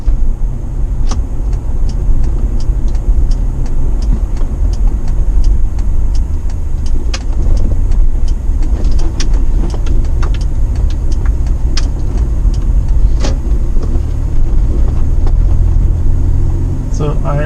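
Toyota Prado fitted with a Lokka auto locker, driving round a roundabout on light throttle with the windows up: a steady low engine and road rumble, loud and even throughout, with scattered small clicks and knocks.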